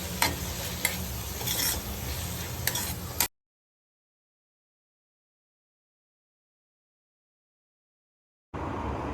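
Onion, tomato, salt and spices being sautéed in oil for a Malvani wet cashew curry, a close sizzling fry with stirring scrapes for a few seconds, then a long stretch of silence before the frying briefly returns.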